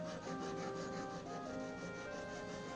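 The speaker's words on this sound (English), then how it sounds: "So what I'm doing here is I'm just sawing the line back in." Jeweler's saw cutting a line through solder on a ring, a continuous rasping, scratchy stroke sound at close range with no voices.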